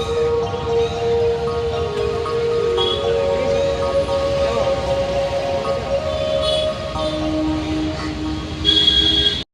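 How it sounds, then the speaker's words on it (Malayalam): Vasco railway station in Goa hums with the steady drone of an idling train and a constant low rumble, with a few distant clanks. "നമ്മളങ്ങനെ വീണ്ടും വാസ്കോ റെയിൽവേ സ്റ്റേഷനിലേക്ക് എത്തിയതാണ്"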